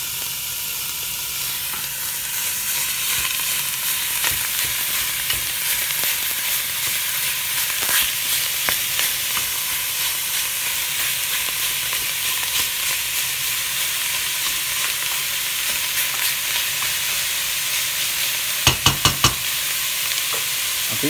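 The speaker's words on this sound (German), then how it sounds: "dann Fleisch rein, einfach ein bisschen anbraten" Ground beef sears in a pot while cooking chili con carne, a loud continuous sizzle and hiss lasting throughout, with occasional scraping stirs and a short burst of clatters near the end, no speech.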